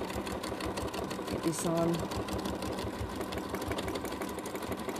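A sewing machine stitches a large tote bag in a continuous fast, rhythmic run, close and prominent, while a person speaks briefly over it.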